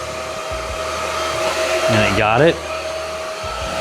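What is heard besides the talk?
Supclean A10 cordless vacuum picking up cat hair from mat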